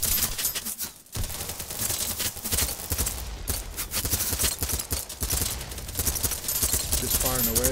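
Rapid gunfire in the PC shooter BattleBit Remastered, dense bursts of automatic weapon shots cracking almost continuously with brief pauses, loud and close over the game's background noise.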